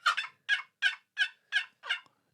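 A hand-operated or mouth turkey call imitating a wild turkey, six evenly spaced sharp clucks or yelps ringing out close and clear against silence, with no talking.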